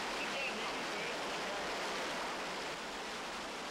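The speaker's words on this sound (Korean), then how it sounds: "계단 폭포 바로 밑엔 7m 높이의 폭포가 도사리고 있다" A New Zealand white-water river below a series of stepped waterfalls, a steady, dense, rushing roar of foaming water with no breaks.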